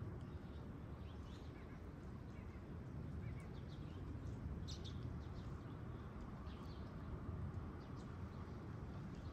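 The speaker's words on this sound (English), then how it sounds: "And the birds, of course, are making noise, because why wouldn't they?" Birds call intermittently outdoors on a foggy winter day with snow about, faint scattered chirps over a steady low ambient hum, with no voices.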